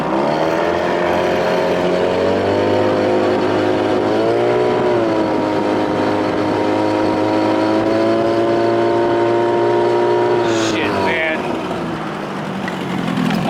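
A 1993 Evinrude 25 to 35 outboard motor revs loudly and steadily as its propeller spins out in weeds, its engine tone climbing and holding high before dropping off abruptly near the end, with a voice speaking over it.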